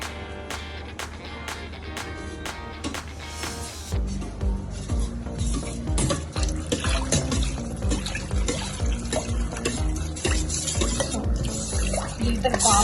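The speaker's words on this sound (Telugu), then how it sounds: "లీటర్ పాలు పోసేస్తున్నాను." About a litre of milk is poured into a pan of flour for white sauce pasta. A few light clicks come first, then a steady, close liquid pour runs continuously.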